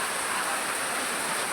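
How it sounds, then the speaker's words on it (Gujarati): Steady rain falls on a village as a dense, even wash of patter, close and fairly loud, with no voices. "તો આ વરસાદ તો જો મારા ગામમાં વરસાદ બહુ છે,"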